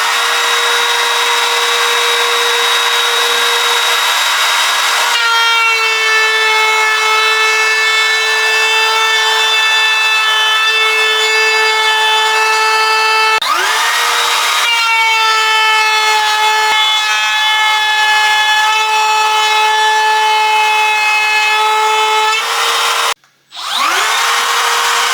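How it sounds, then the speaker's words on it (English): Router cutting grooves into a small wood block for a glass-fronted miniature cabinet, a loud steady high-pitched whine in three long passes with brief drops between, with no talk. "those grooves routed in there now"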